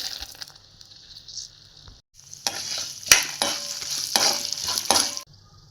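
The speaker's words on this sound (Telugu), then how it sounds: "ఒక మూకుడు పెట్టుకుని 2 టేబుల్ స్పూన్ల ఆయిల్ వేసుకుని అది వేడెక్కాక పోపు వేయించుకోవాలి" Tempering spices fry in hot oil in a pan on a low flame: quiet crackles at first, then a louder burst of sizzling with stirring scrapes before it dies back down.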